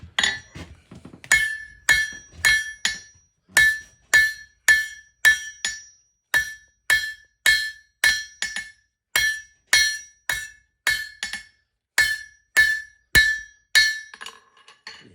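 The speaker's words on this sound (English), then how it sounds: "You're hammering it there" A blacksmith hammers hot steel on an anvil while forging a leaf for a leaf trivet. Crisp, ringing metallic blows land close and steady in a regular rhythm, roughly thirty strikes with short pauses, and no talk.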